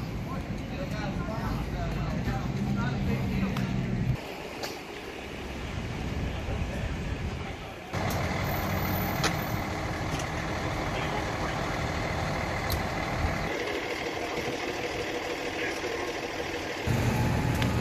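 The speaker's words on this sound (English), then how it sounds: "We're outside and there's a bunch of fire trucks, EMS trucks." Fire trucks and EMS trucks idle outside a firemen's convention in Ocean City, Maryland, their engines droning steadily in changing stretches with a closer diesel rumble at times, and people talk nearby.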